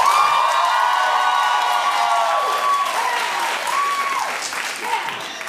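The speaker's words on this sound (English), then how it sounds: "Clap if you went to your prom." Studio audience of a daytime talk show applauds and cheers, a dense wash of clapping with a few whoops, loud and sustained, while a voice talks over the top.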